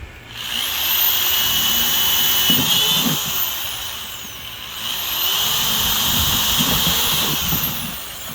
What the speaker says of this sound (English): So I'm gonna actually drill 1, 2, 3, 4, 5 more.